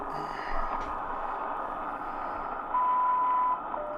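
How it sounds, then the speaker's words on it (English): A single electronic time-signal beep marks the top of the minute, a steady pure tone lasting under a second against quiet room noise. "When we hear the beep, that'll be the top of the minute."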